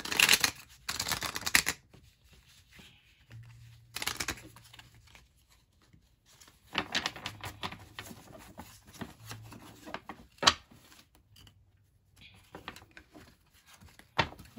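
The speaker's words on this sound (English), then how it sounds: "These cards shuffling like they should." Playing cards are riffled and shuffled in several quick, crisp bursts, separated by quiet pauses and soft handling noises.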